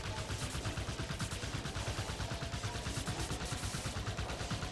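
Rapid automatic gunfire from a turret in Halo 5: Guardians, sustained bursts of sharp shots in a fast steady rhythm, loud and close, running the whole stretch with no talking.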